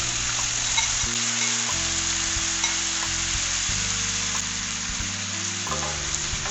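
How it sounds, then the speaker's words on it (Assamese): Marinated chicken hits a hot kadai in an Assamese curd chicken curry, frying with a loud, steady sizzle that runs the whole time, while stirring adds scraping shifts and occasional knocks. "এতিয়া মেৰিনেট কৰি থোৱা মাংসখিনি কেৰাহীত দি দিলোঁ।"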